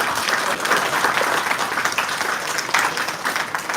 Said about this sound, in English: Can I have a huge round of applause for it?